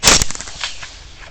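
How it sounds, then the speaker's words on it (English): A single sharp rifle gunshot fired at feral hogs cracks close and loud, then a brief echoing rumble fades away outdoors. "The shot at the shoats misses, as does this runner's shot."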